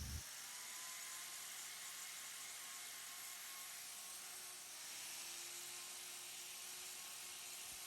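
A handheld grinder trims a twisted cow's hoof between the claws, giving a steady, close, high whine with a hissing grind that holds level throughout without pause.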